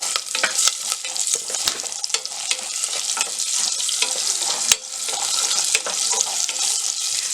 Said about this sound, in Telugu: ఒక 4 ఎండుమిర్చి కూడా వేసుకొని ఫ్రై చేసుకోవాలి